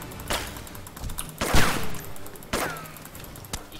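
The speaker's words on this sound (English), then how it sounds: "You hear that shot, Lou?" Gunfire in a video game: four sharp, loud shots spread at uneven intervals, each a hard crack with a short echoing tail, with no voices over them.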